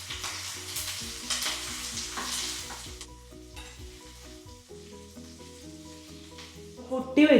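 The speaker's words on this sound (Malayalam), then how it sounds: "നല്ല ജീരകം എടുത്ത് വെച്ചത് അതും കൂടി ആഡ് ചെയ്യാം." Green chillies, dried red chillies and cumin seeds fry in hot oil in a pan while being stirred. A steady sizzle runs under intermittent scraping of the spoon, then settles, with a sharper clatter near the end.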